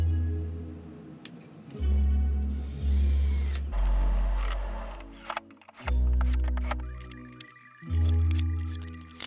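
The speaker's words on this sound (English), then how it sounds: "I'm just drilling pilot holes right now." Cordless drill boring pilot holes into wood flooring boards in a basement, four separate whirring bursts of a few seconds each, close and loud, with short pauses and clicks between them.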